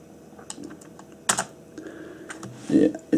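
Typing on a computer keyboard, a few sparse, irregular key clicks and taps at close range, with faint background noise between presses.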